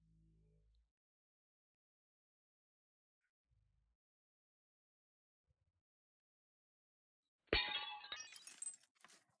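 Old glass bottle smashing outdoors: after several seconds of near silence with a faint thud or two, one sudden loud crash of breaking glass, followed by tinkling shards scattering and settling.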